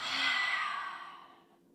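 A single long exhale during a yoga flow, breathy and sighing, swelling quickly then fading over under two seconds, close and alone with no talking.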